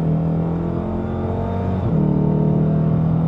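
A Dodge Challenger R/T Shaker's engine drones loudly from inside the car, then its low rumble steps up and grows louder partway through as the car accelerates on a bumpy road.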